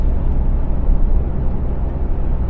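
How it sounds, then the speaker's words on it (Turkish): A bus engine revving up as the driver presses the accelerator at night, a steady loud low rumble and drone heard from inside the cabin, with no talk. "Ben de gaza basıyorum."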